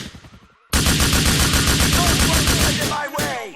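A rocket launcher fires in Grand Theft Auto IV, a loud sudden blast erupting after brief quiet, followed by a long roaring rumble of explosion and rapid crackling gunfire, with a second sharp burst near the end.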